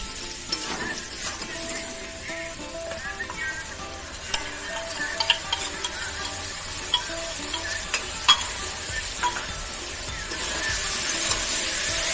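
A spice paste for a hilsa fish curry sizzles softly in a pan while a spoon stirs and scrapes it, with occasional sharper clinks against the pan.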